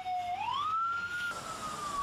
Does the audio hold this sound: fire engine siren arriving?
yes